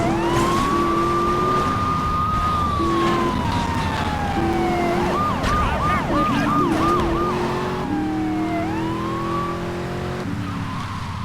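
Police sirens wail and warble in Grand Theft Auto 3 during a car chase, a continuous loud siren sweeping up and down alongside engine roar and tire screeches.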